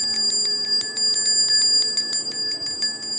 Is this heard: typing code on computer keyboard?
no